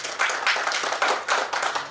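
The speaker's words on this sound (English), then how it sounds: "Give an applause." Scattered clapping during an online summer course session on bamboo, heard as a few uneven bursts of hand claps, fairly soft and brief.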